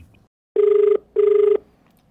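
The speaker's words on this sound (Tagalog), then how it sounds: "Nag-ring yung telepono." A telephone rings twice, two even electronic trills separated by a short pause, loud and close.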